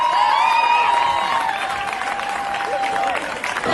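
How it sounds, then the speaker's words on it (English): Audience applause for contestants at the close of a Marina Idol singing competition, a steady wash of clapping from a crowd with some voices and a held tone over it, continuing evenly throughout. "Let's give all of our contestants a round of applause."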